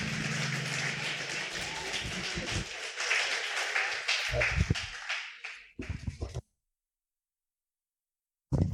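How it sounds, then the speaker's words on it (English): A conference audience applauds the winning team at a youth awards ceremony: sustained clapping with scattered louder claps that thins into a few last taps, then a gap of silence before more sound returns. "So round of applause for our winning team."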